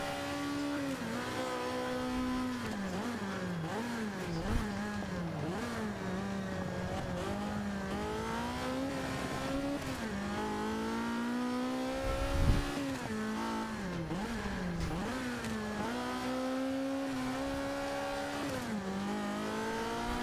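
Race cars lap a circuit in a racing video game, a continuous engine whine rising and falling through gear changes, steady and loud, with an occasional thump.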